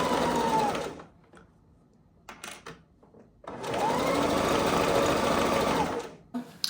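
The waist tie of a robe is stitched on a sewing machine in two sustained whirring runs, with a short stop-start burst in the gap between them and no talking.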